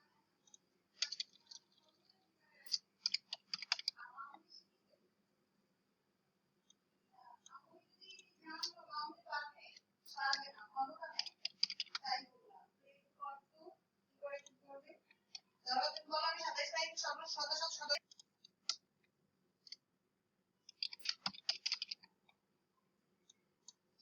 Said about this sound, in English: I'm gonna quickly type this one.